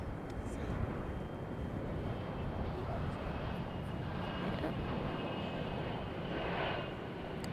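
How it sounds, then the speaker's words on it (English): An American Eagle Embraer ERJ 145 LR regional jet coming in at Charlotte airport, a faint, continuous distant rumble of jet engines with a light high whine, steady and unbroken for the whole stretch. "ERJ 145 LR coming in from"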